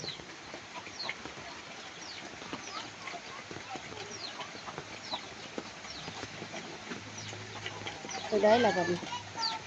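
Chickens cluck and call through a steady hiss of rain during a storm in southern Laos, with a brief louder flurry of clucking near the end and people talking throughout.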